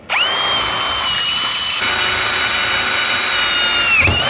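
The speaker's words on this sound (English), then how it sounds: "I'm drilling through the angle iron too" A VEVOR 20-volt cordless drill whines loudly and steadily up close as it bores through about half an inch of steel angle iron, then slows and winds down at the end.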